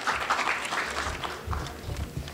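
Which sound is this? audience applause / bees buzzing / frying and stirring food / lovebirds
audience applause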